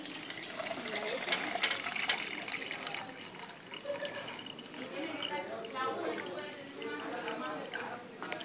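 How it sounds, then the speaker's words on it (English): Sterile water pours into the cup of a breathing-treatment nebulizer in a nursing skills lab, a steady liquid trickle and splash that carries on throughout under continuous talking. "pour the sterile water to our lovely little fill line"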